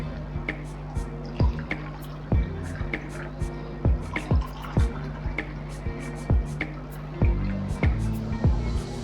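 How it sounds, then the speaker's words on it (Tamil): Water is added to a mixture in a home kitchen, giving irregular dripping and splashing plops at close range over a steady low background hum. "இப்போ இதுக்கு தேவையான அளவுக்கு தண்ணி ஆட் பண்ணிக்கலாம்."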